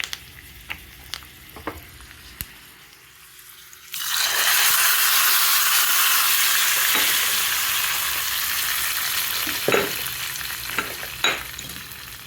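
Hot tempering is poured into pachi pulusu, a raw tamarind soup. After a few quiet knocks, a loud, sudden sizzling hiss starts at once and lasts, then slowly fades while a spoon clinks as the soup is stirred.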